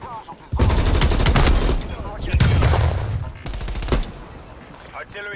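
Artillery barrage in the multiplayer shooter Call of Duty Black Ops Cold War: three loud, sustained rumbling bursts of explosions and gunfire, each lasting over a second, separated by brief lulls.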